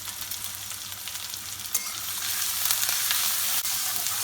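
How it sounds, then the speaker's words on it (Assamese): Onion, ginger, garlic and jaluk fry in smoking-hot oil with a dense, continuous hiss that grows louder midway, dotted with small crackles and a few clinks, close up and without talk. "তেলত প্ৰথমতে মই পিঁয়াজখিনি দিম, তাৰপিছত আদা,"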